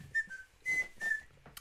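A person whistles a few short, steady, high tones with brief pauses between them, close to the microphone, over faint background noise.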